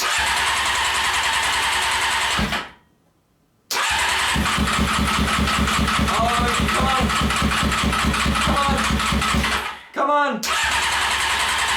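A Honda CBR600 motorcycle engine cranks hard with a steady, rapid starter churn, choke on, cutting out briefly twice before cranking again, never catching. A voice calls out encouragement over it.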